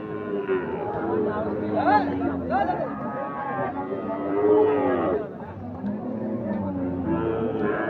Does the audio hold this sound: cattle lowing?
yes